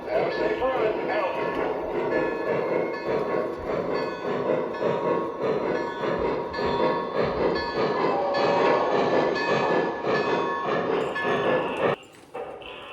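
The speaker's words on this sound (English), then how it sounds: "train is rolling" A model train rolls steadily along the track with a continuous rumbling clatter, close and fairly loud, ending with a brief drop in sound.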